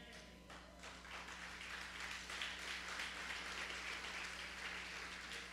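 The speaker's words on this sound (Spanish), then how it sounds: "Gracias por los aplausos" A church congregation applauds at low volume: soft, dense, sustained clapping that swells slightly, with a steady low hum underneath.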